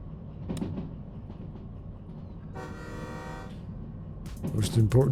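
A train in the video game Derail Valley sounds its horn in one sustained toot over a low rumbling engine, with a voice talking near the end.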